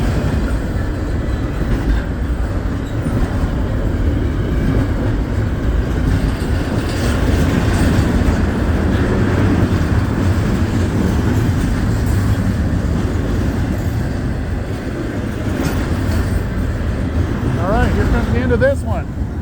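A Norfolk Southern freight train moves along the main line north of Findlay, Ohio, producing a continuous close rumble and rattle of wagons throughout, with a voice speaking briefly over it near the end.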